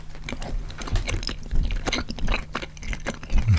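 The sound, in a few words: chewing soft peach ring gummy candy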